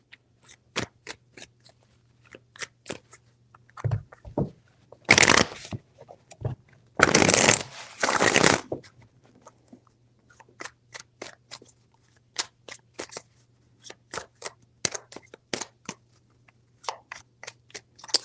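Tarot cards being shuffled repeatedly: quick crisp riffles and taps throughout, with two longer dense bursts of riffling in the middle. Close and fairly quiet, no talking.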